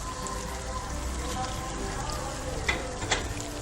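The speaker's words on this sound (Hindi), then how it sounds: "और कीमे को भी अब मैं भून लूंगी तकरीबन 5 मिनट तक लगातार इसी तरह से चम्मच चलाते हुए" Minced meat sizzles steadily in a pan with tomato and ginger garlic paste while a spoon stirs it, a dense frying hiss with a couple of sharp scrapes near the end.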